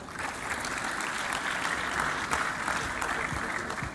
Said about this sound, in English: Please clap for her, she comes up.